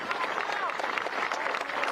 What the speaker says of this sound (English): getting the support of applause from both the Bradford and Mandarin fans